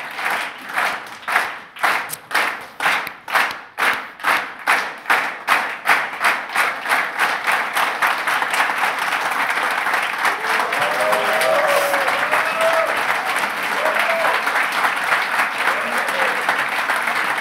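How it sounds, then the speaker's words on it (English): Applause for the Gold Award at the 2017 Neos Award ceremony: rhythmic, unison clapping in distinct beats at first, then merging into loud continuous applause, with a few voices in the background. "The Gold Award. Give a clap."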